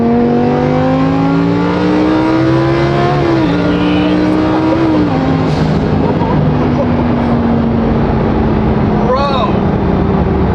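A twin-turbo Lamborghini accelerates hard from inside the cabin, its engine note climbing through rising gear sweeps with shifts along the way, loud and close, as occupants talk excitedly over it.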